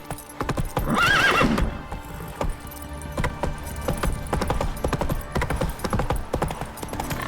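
Roach, a horse in The Witcher 3 video game, gallops with rhythmic clip-clop hoofbeats close by and lets out a loud whinny early on, the hooves continuing steadily afterward.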